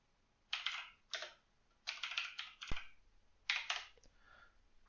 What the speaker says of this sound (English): Sometimes I get typing a little faster than the IDE can keep up with.